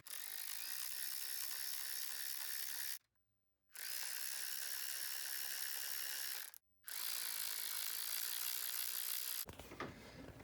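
Ratchet wrench backing out T30 Torx fasteners on the oil separator of a 2016 Audi Q5 2.0T, long runs of rapid close clicking broken by two brief pauses, then a short different rustle at the end.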